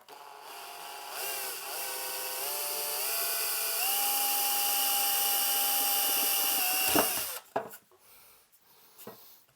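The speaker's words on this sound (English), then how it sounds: "When you're first starting the drill" A power drill bores holes in a metal chassis for a transformer in a tube phono preamp build. The motor's whine rises and holds steady for several seconds, then stops with a few clunks and rattles.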